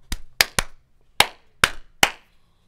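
Hands clapping for a clap test in a household setting: six sharp, close single claps with short echoey tails, spaced irregularly with a quick pair near the start, in an otherwise quiet room.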